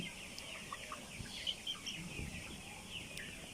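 Poultry sick with coryza cluck and murmur close by in a steady, noisy background, with a few short calls rising above the hum and no talking.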